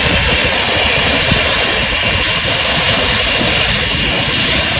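Two Hornets Nest Grand Patriot firework fountains erupt in a loud, continuous roaring hiss with dense crackling, steady and close for the whole stretch without voices.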